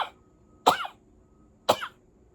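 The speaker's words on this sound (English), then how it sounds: "Oh, I'm gonna sneeze." Two sharp bursts about a second apart, close and loud, like sneezes or coughs, separated by near silence.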